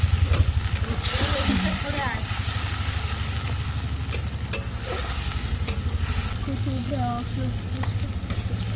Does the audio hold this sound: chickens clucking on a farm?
no